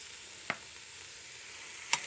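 Low-sodium tomato paste sizzles in a hot pan, a steady close hiss broken by two faint clicks.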